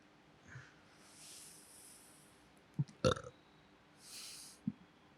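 A single low, guttural burp rumbles out mid-clip between a few quieter gurgles, with faint background hiss and no talking.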